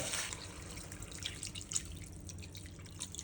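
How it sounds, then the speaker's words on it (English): Water, 250 ml, is added to spiced paste and chicken in a cooking pot for Hyderabadi chicken biryani, heard as light drips and splashes over a soft steady background, close and fairly quiet, with no talking. "After mixing with paste, add 250 ml water."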